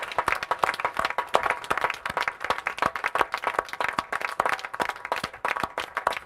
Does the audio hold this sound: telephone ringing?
no